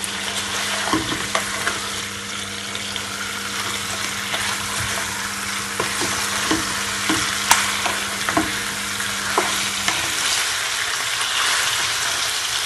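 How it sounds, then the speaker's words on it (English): Chicken searing in a hot pan for Jamaican stew chicken rasta pasta, a loud continuous sizzle and crackle up close, broken by occasional sharp pops and a few stirring knocks, with a low hum that stops near the end. "you can just allow it to sear off for at least 1 minute"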